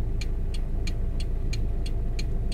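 Car driving along a road with a vibrating oil pan guard, a steady rumbling drone carrying a regular rattling tick that repeats about three times a second throughout.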